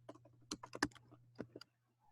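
Typing on a computer keyboard: a quick run of separate key clicks, a few sharper strokes, then a pause and a couple more taps before it goes quiet, close and clear over a low steady hum.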